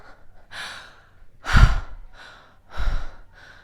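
A person demonstrates excited breathing, with a quick series of about five audible breaths close to the mic, some sharp and louder inhales and exhales, others softer, and no speech.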